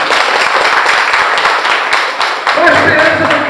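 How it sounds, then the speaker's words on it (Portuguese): A church congregation applauds during a sermon, a dense wash of clapping for about two and a half seconds before a voice starts speaking over the fading hands. "Você pode dar uma aplauso ao Senhor Jesus?"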